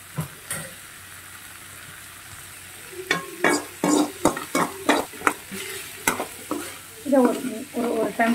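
Boiled cabbage and peas for a wedding-style muttakosu poriyal are stirred in a hot pan, a run of rhythmic scraping and clattering strokes over a light sizzle, starting quietly and growing louder and busier after a few seconds.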